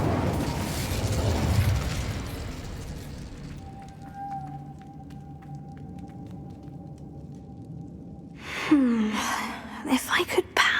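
In Hogwarts Legacy, casting the Incendio fire spell sets off a whooshing burst of flame that fades into a quieter magical tone. It ends in a cluster of sharp pops and crackles.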